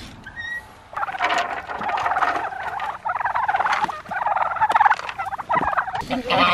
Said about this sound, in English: we're going to quickly go and let out the birds